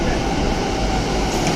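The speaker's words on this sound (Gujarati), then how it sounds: "આવી ગઈ ટ્રેન" A metro train pulls into a station on the Gandhinagar Metro, its steady rumble and rolling rail noise filling the space for a moment without a break.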